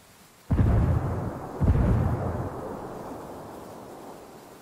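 A grenade detonates in a video game with a sudden heavy boom, followed about a second later by a second blast, both leaving a long rumbling tail that fades slowly.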